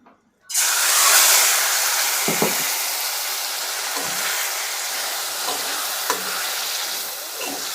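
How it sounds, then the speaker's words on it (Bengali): Curry poured back into a hot pan of fried dry chillies for an ilish fish head and taro stem dish, setting off a loud, steady sizzle and fry that holds for several seconds, with a few soft stirring knocks. "শুকনো মরিচগুলো ভালোভাবে ভাজার পর এখন সেখানে আবারও সেই তরকারিটা দিয়ে দিব"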